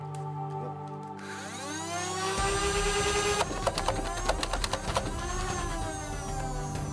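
A Nerf ODST SMG blaster firing a magazine of seven darts: motor whine spinning up, then a rapid run of mechanical clacks as the darts fire in quick succession, close and loud.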